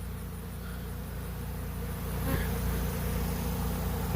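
A dense, steady buzzing of a honeybee swarm all around, a continuous droning hum that swells slightly louder partway through.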